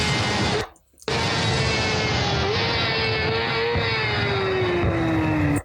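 Motorcycle riding and leaning through a turn, a loud continuous engine drone with a rising then falling pitch, briefly cut by a short gap near the start.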